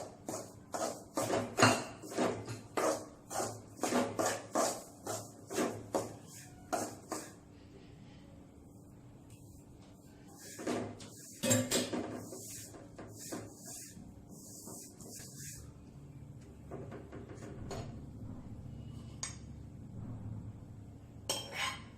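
A spoon scrapes and clinks against a bowl while ragi (finger millet) flour is mixed with ghee for jaggery laddu; sharp metallic taps come in an irregular rhythm early on, then softer scraping and stirring continue.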